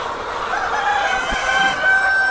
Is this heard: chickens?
yes